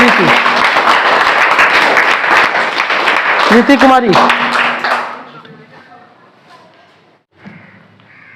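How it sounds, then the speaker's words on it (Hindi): An audience at a comic quiz show claps loudly for a contestant taking the hot seat; the applause rolls steadily for about five seconds, then fades out, and a voice speaks briefly near the end. "उसके लिए ताली बजाइए"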